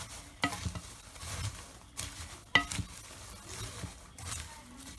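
Food being stirred in a cooking pan, with soft scraping strokes and a couple of sharper utensil knocks against the pan over a faint sizzle, close and fairly quiet, with no talk.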